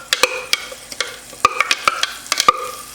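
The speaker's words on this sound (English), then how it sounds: "So we're gonna saute the mixture first. You can also like throw a little bit in there when you see it's already sizzling." Lemongrass chicken mixture sizzles in hot oil in a pan while being stirred, with scraping utensil strokes and crackling pops recurring close up.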